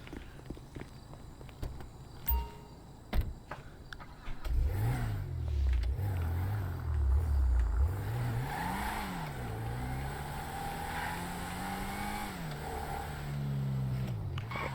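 A car in a Yakuza video game drives off and revs, its engine rising and falling in loud sweeping surges after a few sharp knocks and steps, with no talking.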